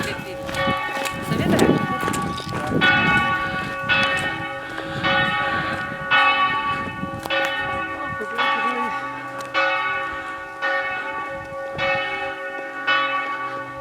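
Church bells ring steadily on a mountain visit at Limbarska gora, with repeated loud, resonant strikes and overlapping tones sustaining throughout, heard fairly close and alone.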